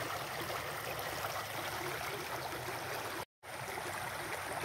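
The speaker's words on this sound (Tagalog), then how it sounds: "ganda ng pati tunog ng tubig, napakaganda niya" Steady running water from a stream, a continuous broadband rush that stays even throughout, with a brief dropout near the end and no voices.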